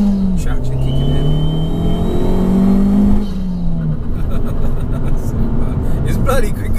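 A modified Abarth 595 Competizione accelerates hard, its engine note climbing steadily in pitch, dipping at a gear change, then droning on, heard from inside the car with voices talking over it.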